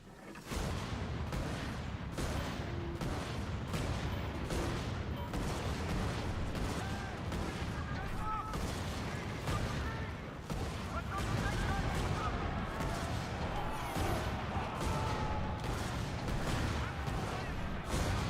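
Ship cannons fire in the naval game Skull and Bones, a dense run of booming shots and blasts that keeps going across the whole stretch, loud and close, with voices talking over the top.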